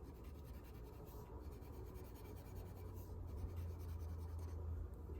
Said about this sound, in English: Then in the center, I'll just color very, very lightly to create a different value.